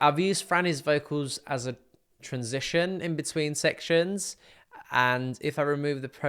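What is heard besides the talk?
No everyday noise stands out behind the speech.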